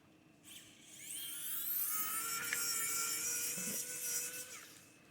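Electric screwdriver driving a screw while a Stem Player is taken apart, a close, whining motor buzz that winds up and holds for several seconds with small clicks, no talk.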